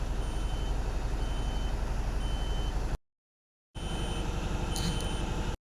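A truck reverses into parking at a company site after a drive from Kolhapur to Pune, its loud rapid reversing beeps pulsing steadily, cutting out briefly, then resuming with a short hiss.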